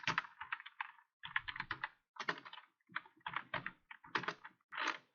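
Java code being typed on a computer keyboard: bursts of rapid, close key clicks separated by short pauses, fairly quiet and with no talking over them.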